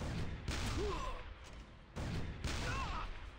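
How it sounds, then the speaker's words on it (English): In the mobile game Epic Seven, two heavy cannon shots boom one after another, each a sudden burst that rings out and fades, about a second and a half apart. "that was only from two cannon shots there"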